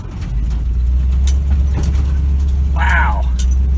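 A lifted 1977 Chevy K20 pickup ploughing through deep desert sand near Soda Lake: loud, continuous low engine drone and rumble heard from inside the cab, with brief rattles and a short voice near the end.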